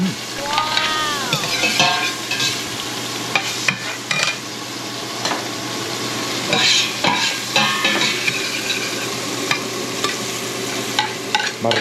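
Cooked rice being stirred and fried in margarine in a pan, with steady sizzling, scraping and clinking of a utensil against the pan, loud and close; occasional voices in the background.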